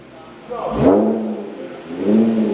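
Audi S5 B8.5 engine with CAP resonated test pipes and high-flow cats, revved twice, each rev a close, rising growl that settles into a deep drone; a voice is heard around the revs.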